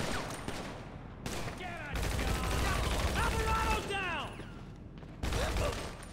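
Gunfire from a GTA Online shootout crackles in dense bursts of rapid shots, muffled and distant, with a game character talking over it and brief pauses between volleys.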